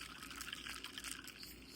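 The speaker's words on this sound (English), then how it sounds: "put some water in here." Water poured into a container while cleaning up at a gas station after hitting a pole, a steady rushing splash running for about two seconds.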